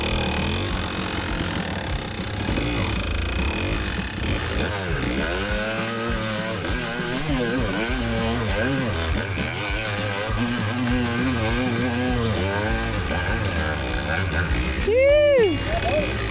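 Small pitbike or Kawasaki KDX200 two-stroke dirt bike ridden off-road, its engine droning steadily and rising and falling in pitch with throttle changes, a sharp high rev near the end, with voices talking over it.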